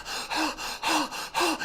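A storyteller imitates heavy panting with three quick, rhythmic breathy gasps, close and fairly soft, each a short huff in and out.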